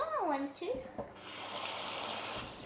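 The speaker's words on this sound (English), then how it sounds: "I will add a little bit of water" Water is poured into a raw fruit and nut energy ball mixture, a steady trickling splash for over a second after brief vocal sounds, close and soft.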